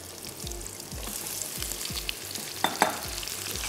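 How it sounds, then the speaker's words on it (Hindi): Mutton with ginger-garlic paste frying in hot oil for dhaba-style masala, a steady close sizzle with repeated low thumps of stirring through the pan, no talk. "साथ ही हम इसमें मटन भी ऐड कर देंगे, अदरक लहसुन का पेस्ट हम इसमें शामिल कर देते हैं।"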